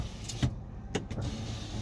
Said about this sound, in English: your sliding rear window is right here, so that'll open up